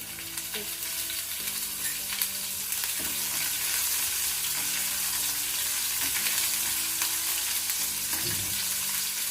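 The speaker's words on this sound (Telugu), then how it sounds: "ఇలా కొంచెం కలర్ వచ్చే వరకు వేయించుకోవాలి." Cumin seeds and chopped green chillies fry in hot oil for paneer bhurji, giving a steady close sizzle with occasional stirring clinks and scrapes and no talk.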